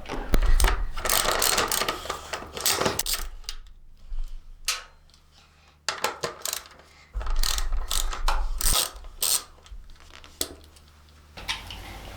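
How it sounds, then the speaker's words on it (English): A 13mm socket ratchet removes the bolts under the rear fender of a 2023 CFMOTO 450SR motorcycle, with close, rapid clicking bursts, pauses, and metallic handling noises in between. "take our 13mm socket and remove the 3 bolts underneath the rear fender"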